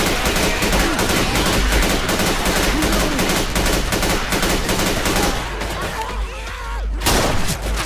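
Rapid gunfire from the zombie shooter game Left 4 Dead 2, with dense bursts of shots and blasts running almost the whole time, easing near the end and then a final loud burst, with people talking over it.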